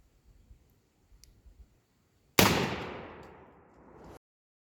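A shotgun fires a single 5 shot turkey load at a 40-yard target, one sharp loud blast outdoors with a decaying echo, preceded by faint clicks of handling.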